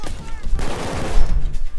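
Rapid gunfire from the heist shooter game PAYDAY 2, a dense burst of close shots with a voice talking briefly over it.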